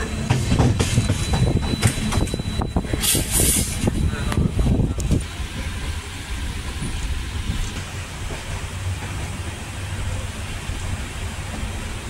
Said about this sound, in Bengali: আর এই হচ্ছে এখন ভুবনেশ্বর ঢুকছে।